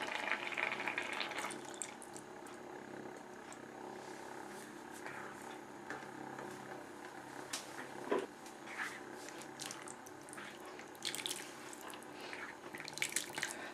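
Thick coconut milk poured into an egg kuruma curry, a soft continuous trickling and sloshing heard close, with background kitchen noise and faint scattered clatter alongside.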